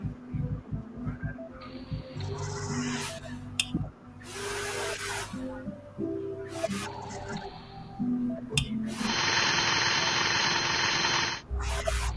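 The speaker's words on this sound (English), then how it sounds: "A hole must be drilled inside the femur to set up the distal femoral cutting jig" A surgical drill bores into a femur in repeated short bursts of high whirring, separated by brief pauses and softer handling noise, ending in a longer sustained run.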